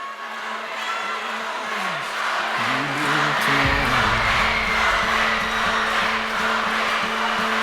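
Large crowd roaring and cheering loudly at a convention opening session, a dense sustained wall of screams and whoops swelling after a few seconds, with music or tones underneath.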